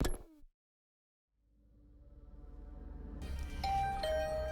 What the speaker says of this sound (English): another sound echoed through my room. The doorbell.